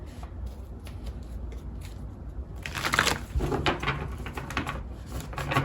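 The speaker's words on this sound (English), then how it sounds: "Let's pull some tarot cards for you." Tarot cards riffled and shuffled close up, a soft papery rustle that grows into a busier stretch of riffling, flicking and card handling, with no talk.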